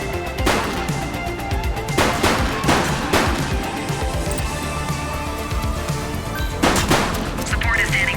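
Gunfire in the police video game The Precinct, sharp broadband shots in irregular bursts around a few heavy volleys, loud and close over a busy game soundscape with voices mixed in.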